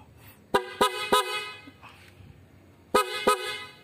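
Loud, bright horn blasts from an aftermarket horn on a Honda ADV 160 scooter sound in quick bursts: three short honks, a pause, then two more, close by.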